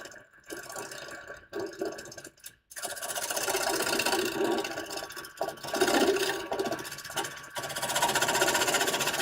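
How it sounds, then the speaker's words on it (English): A carbide tool turns a fresh log into a bowl on a lathe, giving a continuous rasping, scraping hum with brief pauses between passes. No one talks. "I'm going to use a carbide, because that gives me really nice access to this here"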